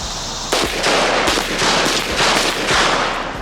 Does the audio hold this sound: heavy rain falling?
no